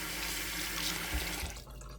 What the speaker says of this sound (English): I've run this under the hot water for a while.